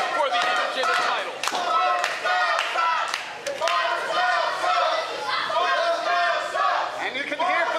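A wrestling arena crowd at an intergender title bout between Kavron Kanyon and Kayla Lynn roars steadily, with dense overlapping shouts and cheers filling the whole stretch at a loud, constant level.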